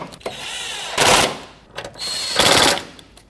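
A ratchet tightens bolts on a 1998–2005 Lexus GS300 while an AC condenser is being replaced, giving two loud bursts of rapid close clicking separated by brief pauses.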